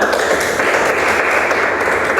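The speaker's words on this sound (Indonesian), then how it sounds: "tepat sekali tepuk tangan ya untuk jawabannya" A classroom of students applauds an answer with a short, steady burst of dense clapping that fills the room, close and fairly loud, with no talk over it.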